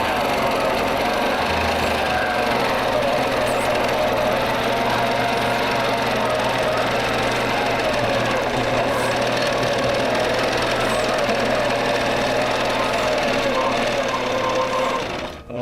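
A long arm quilting machine stitches a quilt on a frame with a continuous fast, mechanical whirring chatter and a steady low drone throughout, close and loud, running without pause until it winds down at the end.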